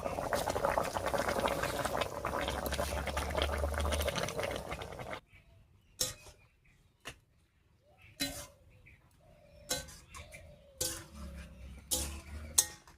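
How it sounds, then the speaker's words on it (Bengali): Shing fish curry with greens coming to a rolling boil in a pot, a dense bubbling for several seconds, then quieter simmering with scattered utensil clinks and pot knocks. "রান্নায় বলক উঠে গেছে, এবার শাকটা দেব।"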